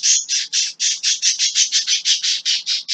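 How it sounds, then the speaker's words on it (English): Birds squawk loudly in a rapid, steady series of about sixteen harsh calls over three seconds, close by and with no other sound. "You can hear those are birds."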